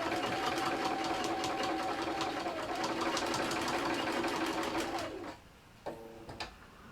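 A sewing machine stitches steadily through multiple thick fabric layers of a basket project, a close, loud continuous hum for about five seconds before stopping, followed by a few small clicks.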